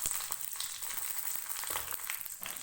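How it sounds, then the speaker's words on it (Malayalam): Mustard seeds and curry leaves sizzle in hot oil in a pan, giving a bright, close, continuous hiss scattered with quick crackling pops. "ഒരു പാൻ എടുത്തിട്ട് എണ്ണ ഒഴിച്ച് കടുക് പൊട്ടിയതിന് ശേഷം കുറച്ച് കറിവേപ്പില അങ്ങോട്ട് ഇട്ട് കൊടുക്കുക"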